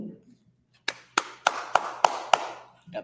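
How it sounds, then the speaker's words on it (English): Six sharp hand claps in a fairly steady rhythm, close and loud, with a brief voice just before and another starting at the end. "Got to clap it up for you"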